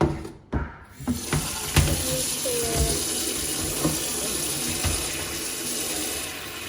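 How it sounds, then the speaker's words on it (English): Tap water runs steadily into a container set up for sprouting mung beans, filling it with a constant splashing hiss. A few clunks and knocks of handling come at the start. "need to fill the water up"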